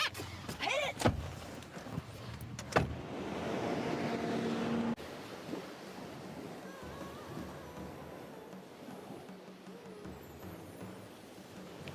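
A car pulls away, its engine and road noise swelling loudly for the first few seconds and then settling into a steady, quieter cabin rumble with no talk.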